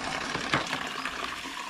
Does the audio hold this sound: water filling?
yes